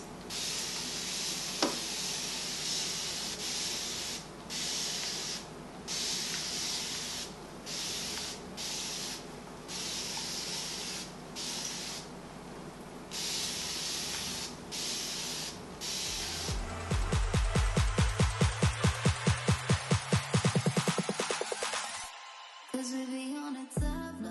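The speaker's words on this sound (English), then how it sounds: "I got my bottle with just water in there, and I'm just spraying this." Rapid bursts of a spray bottle misting water onto hair, many short hisses in a row, followed by a longer stretch of quick repeated spritzes.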